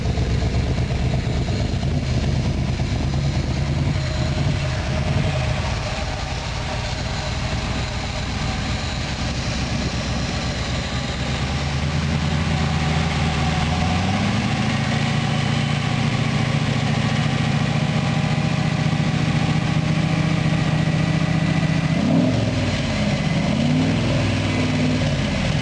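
A 427W Ford engine settles into a steady, rumbling idle after starting, running loud and close throughout, with a brief change in pitch and a rev near the end.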